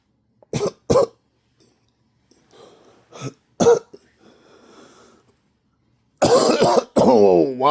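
A person coughs in a few sharp, separate bursts, near and alone, with quieter throat sounds between, followed by a strained, pained exhalation.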